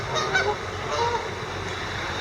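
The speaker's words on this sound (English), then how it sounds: "Speaking of geese" Geese honk repeatedly at a middle distance outdoors near a cemetery pond, several overlapping calls over a steady background hum with no talking.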